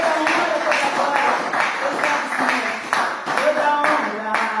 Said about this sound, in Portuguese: Exaltemos o nome do Senhor com uma salva de palmas.